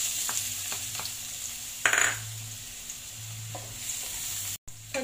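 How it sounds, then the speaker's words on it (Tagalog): Garlic sautéing in hot cooking oil in a pan, a soft steady sizzle broken by a few spoon scrapes and stirring clinks, with one brief louder burst of spattering partway through; no voices. "Unang igigisa natin ay yung bawang."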